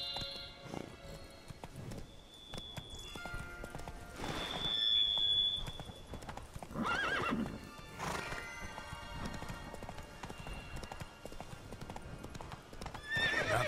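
Roach, a horse in The Witcher 3, gallops with steady clip-clop hoofbeats and a brief whinny, set against a busy game soundscape with chimes and ambience.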